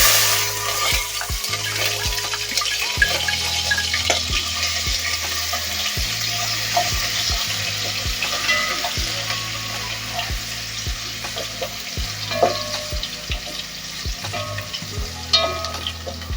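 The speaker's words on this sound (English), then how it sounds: "So my oil is hot enough. I'll start by adding the garlic." Diced garlic frying in hot oil for a Manipuri-style beef innards curry: a loud, steady close sizzle with repeated sharp scrapes and taps of a spoon stirring the pan, no voices.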